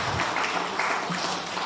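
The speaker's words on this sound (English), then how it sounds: "Kindly a round of applause for her." Applause from an audience at a live community gathering, a steady dense patter of many hands held at an even level for the whole moment with no pause.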